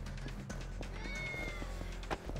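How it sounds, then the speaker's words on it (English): A cat meows in the Yakuza: Like a Dragon video game, a short, faint mewing cry over steady background hum and game noise. "Oh yeah, I heard a cat"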